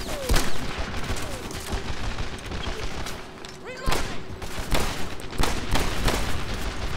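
Dense bursts of rifle and machine-gun fire crackle through a Medal of Honor: Airborne battle, with sharp loud volleys at irregular intervals over a constant din of distant shooting.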